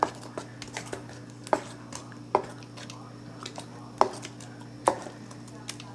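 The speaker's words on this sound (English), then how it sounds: "Here, I'm mixing." Potato kugel batter mixed in a bowl, a utensil knocking against the side in sharp periodic taps over soft squishing, close by, with faint background hum.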